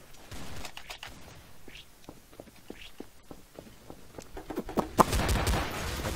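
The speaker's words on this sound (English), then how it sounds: "I'm shooting my teammates again and again." Gunfire in Counter-Strike: Source GunGame, a run of sharp, separate shots at irregular spacing that grow denser and louder toward the end, with a heavier burst near the close.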